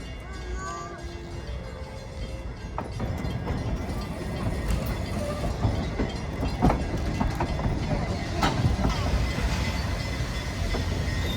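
A short-run Sumpter excursion train rumbles past with steady clattering and occasional metallic squeals, a continuous loud roar throughout.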